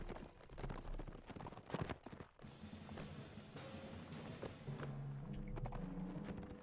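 Horses clip-clop in a medieval battle in Mount and Blade Warsword Conquest, a steady busy run of hoof thuds over a dense wash of game noise, fairly loud and even throughout.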